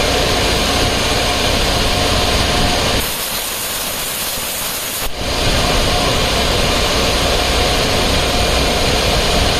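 ASIC cryptocurrency mining machines on a mining farm roar with loud, steady fan noise at close range, a broad constant whoosh that dips briefly for about two seconds in the middle before resuming at full strength.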